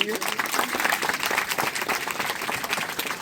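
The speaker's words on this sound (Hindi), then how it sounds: "हम तालियों को बजाएंगे।" Guests at a Christian wedding ceremony applaud: a short burst of clapping from a crowd, close and lively, with some voices mixed in.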